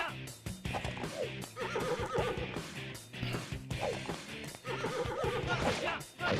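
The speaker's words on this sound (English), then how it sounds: "Bloody horse." A horse neighs loudly in the video game Devil Summoner: Raidou Kuzunoha, with repeated whinnies over a busy, dense layer of game music and battle effects.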